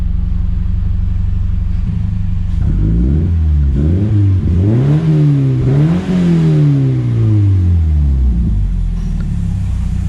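A car engine on a road test revs up and down several times through rising and falling gear sweeps, loud and close, over a constant low rumble with no talking.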